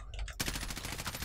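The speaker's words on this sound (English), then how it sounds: "I hear gunfire." A rapid burst of automatic gunfire cracks out in Call of Duty Warzone after a brief quieter moment, fast closely spaced shots running nonstop and loud to the end.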